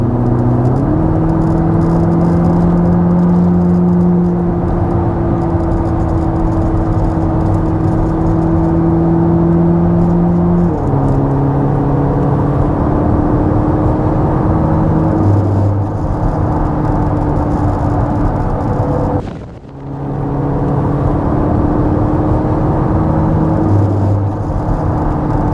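A 2026 Corvette ZR1 cruises along a road on a fall day, its engine a loud, steady in-cabin drone whose pitch steps through several gear changes, with a brief dip in level near the twenty-second mark.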